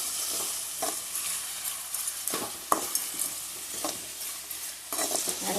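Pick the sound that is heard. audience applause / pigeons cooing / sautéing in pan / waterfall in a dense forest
sautéing in pan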